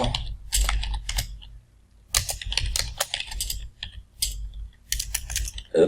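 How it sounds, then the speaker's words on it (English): Bursts of typing on a computer keyboard, close clicking clusters broken by short pauses, with no voice over them. "let me type this out first and I'll explain it"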